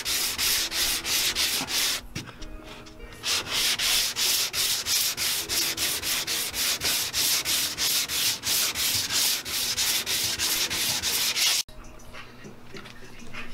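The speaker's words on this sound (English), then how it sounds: "we're going over and just sanding it and just getting it as smooth as we can right now" Sanding a car body smooth where the antenna was removed, a steady rhythmic rasp of repeated back-and-forth strokes, close and loud, with a brief pause partway through and no talking.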